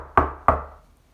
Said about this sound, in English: She took hold of the knocker and banged on the door.